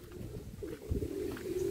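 A pigeon cooing softly at close range, a short low murmuring coo lasting under two seconds, faint and alone, from a racing pigeon in training.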